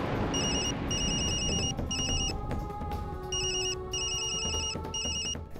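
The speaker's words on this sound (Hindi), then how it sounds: "पर फोन किधर से बज रहा है?" A mobile phone ringtone plays loudly and steadily, repeating bursts of bright electronic tones in a patterned rhythm over a busy indoor background, with no speech.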